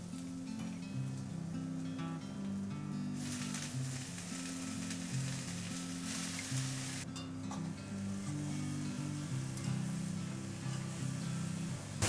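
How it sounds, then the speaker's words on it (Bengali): Eggplant and khesari greens fry in hot oil in a vegetarian dish, giving a steady, close sizzle with occasional stirring scrapes throughout and no talking. "বেগুনটা একটু ভেজে নিয়েছি এর মধ্যে শাক দিয়ে দেবো"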